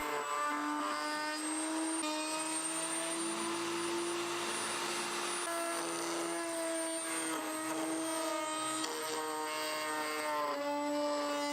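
A power router, likely handheld, rounds over the edges of a wooden dinosaur baby play gym toy. It gives a constant, close, high mechanical whine with a steady humming drone underneath, uninterrupted for the whole stretch with no talking.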